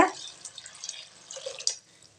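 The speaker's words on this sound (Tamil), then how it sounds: "இந்த தண்ணியை சேர்த்துக்கலாங்க" Water being poured into a cooking pot for mochai biriyani: a quick splash at the start, then a faint, uneven trickle and a few drips in a quiet kitchen.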